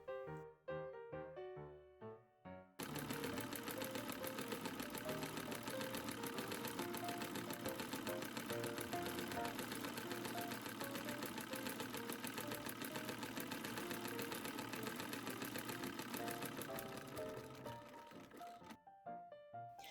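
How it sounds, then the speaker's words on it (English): An original antique sewing machine runs steadily for most of the stretch with a fast mechanical rattle, starting and stopping abruptly, heard close and fairly quiet. "the extra excitement of using an original antique sewing machine"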